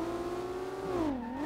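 A simulated 2JZ-engined Nissan 240SX in the SLRR drifting game revs with a steady buzzing drone whose pitch sags and then climbs again.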